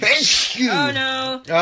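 A person sneezes once, sharp and close, at the very start, followed right away by a voice speaking.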